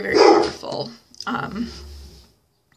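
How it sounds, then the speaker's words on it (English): A pet dog barks in a couple of loud, close bursts separated by a short gap, mixed with a person speaking a few words indoors. "that's my dog probably barking at a squirrel"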